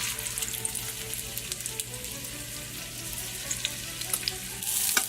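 Meatballs browning in a hot pan give a steady, close, loud sizzle and crackle with occasional spitting pops, running continuously without any talk.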